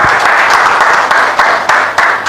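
A church congregation claps loudly and continuously, a thick, close roar of many hands with a few sharper individual claps standing out, with no talk over it.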